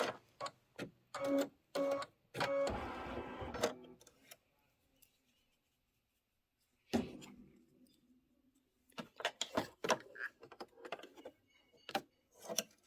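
An embroidery machine stitches a word in gray thread on a storybook pocket pillow, giving bursts of rapid mechanical ticking and whirring that are broken by a long quiet stretch before the stitching resumes.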